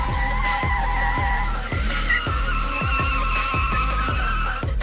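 A car's tires squeal and skid loudly and continuously, burning rubber with a steady high screech over a pulsing, rhythmic engine drone throughout.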